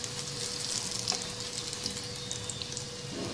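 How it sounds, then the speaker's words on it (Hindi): Dal shami kebabs frying in a pan, a steady close sizzle of hot oil running throughout with faint scraping clicks, no talking. "एक तरफ से कबाब फ्राई हो जाए तो इसकी साइड तब्दील कर लेंगे।"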